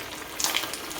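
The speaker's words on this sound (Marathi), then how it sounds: "वडे आपल्याला काय करायचं, तेलामध्ये हळूहळू गॅस स्लो ठेवायचं जरा आणि टाकायचे" Sabudana vada sizzles gently in hot oil over a low flame, a soft steady crackle with a few brighter pops, close and continuous with no talking.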